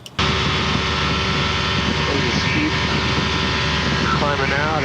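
A propeller airplane climbs out in flight, its engine a loud, steady, close droning roar that starts abruptly and holds without a break, with faint voices under it.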